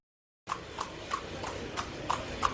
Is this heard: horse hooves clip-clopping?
yes